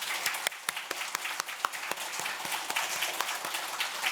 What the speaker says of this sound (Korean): 함께 5초 동안 박수를 한번 쳐보도록 하겠습니다